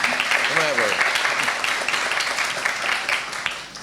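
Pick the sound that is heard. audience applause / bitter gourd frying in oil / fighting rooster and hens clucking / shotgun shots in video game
audience applause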